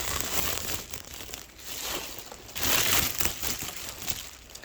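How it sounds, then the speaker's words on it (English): A plastic bag holding a smoke alarm box crinkles and rustles up close in irregular bursts, louder crackling surges coming and going with the handling, with no voices. "the actual box to the unit is inside of this sort of plastic bag here"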